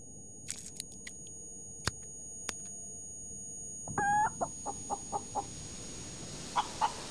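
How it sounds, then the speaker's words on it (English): A chicken in the space survival game Breathedge gives a short run of about seven evenly spaced clucks, clear and fairly close, followed by a couple more spaced clucks, after some scattered electronic clicks and a steady tone. "There's a chicken!"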